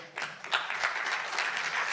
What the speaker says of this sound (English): Please give a round of applause for Eamonn.